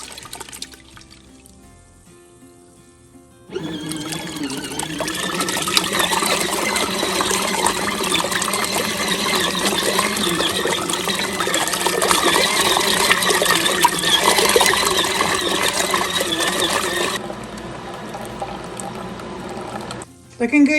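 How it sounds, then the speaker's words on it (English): A portable washing machine runs a 15-minute wash cycle, starting abruptly with a loud, steady churning hum and sloshing water that continues for about fourteen seconds, then stops, with quiet sounds before and after. "But it's doing a 15-minute wash."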